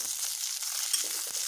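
Cauliflower frying in a pan, a steady close sizzle with faint crackles, continuous and fairly quiet with no talk.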